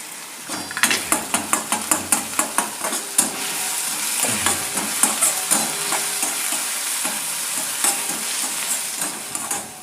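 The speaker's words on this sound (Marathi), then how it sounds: "कांदा छान मस्त गुलाबी रंगावर परतून घ्यायचा। आता यामध्येच ही अद्रक लसूण पेस्ट" Chopped onion and ginger-garlic paste being stirred and fried in a pan for chana masala, a steady sizzle with rhythmic scraping strokes of a spoon against the metal, close and fairly loud, no talking.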